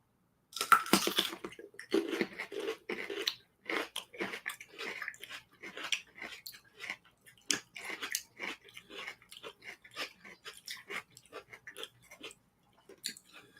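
Someone bites into a pickled cucumber at a deli dinner, a quiet close series of wet crunching bites followed by steady chewing, with no talk.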